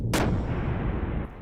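A single heavy gun blast fired from a giant mech in Xenogears, a sharp, loud crack that fades into a long rumbling tail.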